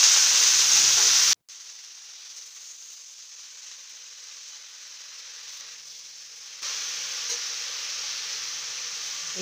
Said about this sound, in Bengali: ওই সবজিগুলো ভাজা ভাজা হয়ে যেতে আমি তার মধ্যে দিয়ে দিলাম শাকগুলো